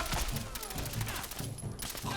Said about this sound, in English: It does 15 explosion damage every bullet, and it's also a machine gun